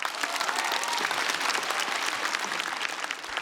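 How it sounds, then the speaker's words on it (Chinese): A studio audience applauds a stand-up comedian after a set, with a steady, dense wash of clapping that holds at an even level throughout with no talk over it. "掌声再给英宁。"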